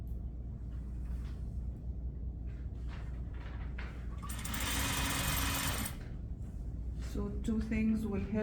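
A sewing machine stitches a collar onto a jacket neckline, its motor whirring in a loud steady run for a couple of seconds in the middle, with a person speaking before and after.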